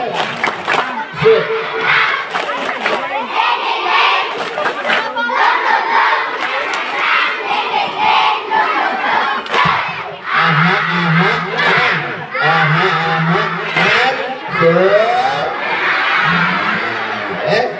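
A crowd of primary school children shouts a loud, rhythmic cheer with bursts of clapping, their voices energetic and close, continuing throughout, at a Maulid Nabi school event.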